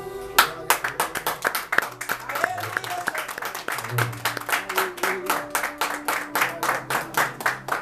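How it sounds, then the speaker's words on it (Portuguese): A church congregation claps together in a steady, rhythmic beat of praise, the claps sharp and continuous throughout, with faint voices and music underneath. "E louve a Deus com as suas palmas."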